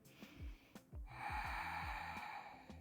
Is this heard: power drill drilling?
no